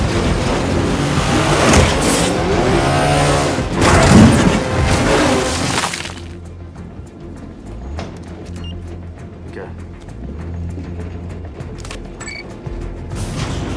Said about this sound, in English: The Challenger would, which is the black car that the bus hit, it would not remain stationary after a collision like that